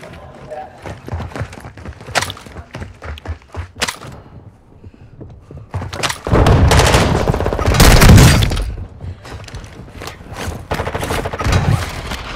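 Mid-caliber gunfire in Call of Duty: Modern Warfare II rattles in sharp bursts, with a heavy, sustained volley near the middle, set among in-game voices and battlefield noise.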